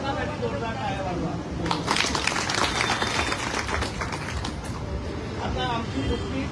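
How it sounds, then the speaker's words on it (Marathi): Women construction workers at a gathering in Badlapur break into applause, a dense rolling wash of clapping that rises after a couple of seconds and holds steady over a murmuring crowd with some voices underneath. "त्यामुळे तुम्ही त्याला स्वतःसाठी जोरदार टाळ्या वाजवा."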